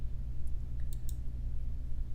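Two quick, faint computer mouse clicks while playing Kerbal Space Program, barely standing out above a steady low background hum.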